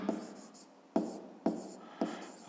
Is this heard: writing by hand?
yes